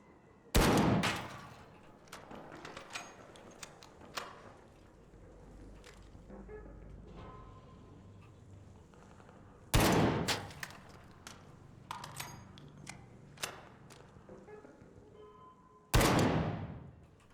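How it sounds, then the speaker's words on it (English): Gunfire in the video game Arc Raiders: three loud, sharp broadband blasts spaced several seconds apart, with quieter scattered clicks and thumps of game action between them and no talking. "it's not me that's shooting"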